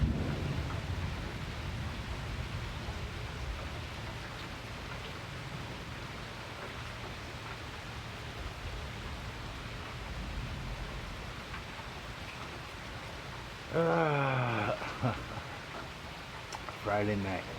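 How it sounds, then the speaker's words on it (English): Heavy rain pours outdoors during a storm in Fayetteville, Arkansas, a steady broadband roar with wind buffeting the microphone, and a voice briefly speaks near the end. "sweet sound of rain,"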